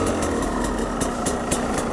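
A KTM 300 EXC two-stroke supermoto with a newly replaced piston runs close by at a steady, loud, buzzing idle, with rhythmic pulses and no talking.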